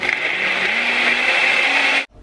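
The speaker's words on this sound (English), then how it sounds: "So I'm gonna go ahead and put it on the blender and have our delicious keto strawberry milkshake" A loud, close blender whirring steadily while mixing a keto chocolate strawberry milkshake, its motor pitch creeping slightly as it runs, then cutting off abruptly at the end.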